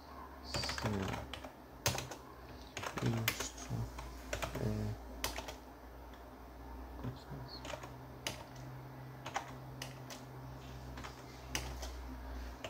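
Typing on a computer keyboard for an MS-DOS demonstration, faint irregular clicks and key taps in short bursts with pauses, close and quiet, with a low hum beneath.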